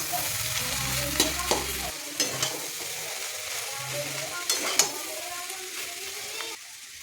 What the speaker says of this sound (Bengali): এবার আবার ভালো করে নেড়ে নেব।